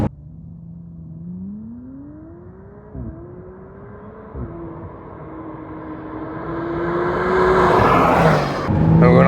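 A McLaren Artura V6 engine runs close by, rising and falling in pitch as it revs up through several gear changes, then swells into a loud, harsh roar, with no voices.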